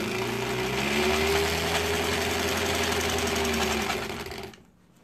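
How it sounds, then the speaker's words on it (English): A sewing machine stitches improv quilt piecing in a fast, even whirring run for about four seconds, then winds down and stops. "This machine gets like great little stitches though."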